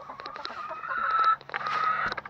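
Backyard chickens clucking and cackling during an evening round-up by a herding dog, a steady close chorus of overlapping hen calls with a brief pause midway.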